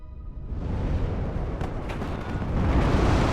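HE bomber strike explosions in the war game WARNO, a rolling wall of deep rumbling blasts that swells and stays loud throughout.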